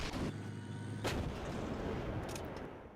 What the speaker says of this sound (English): right when their artillery hit